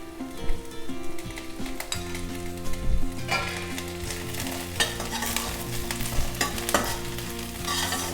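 Curry leaves sautéing in oil in a pan crackle and sizzle loudly and continuously, with repeated metallic stirring scrapes and clinks of a spoon against the pan.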